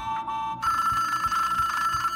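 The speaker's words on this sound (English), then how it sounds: "Why is there a phone in the middle of the hallway?" An old telephone bell rings in a hallway inside a video game, a bright, continuous electronic trill that shifts pitch partway through and repeats with a faint low pulsing beneath it.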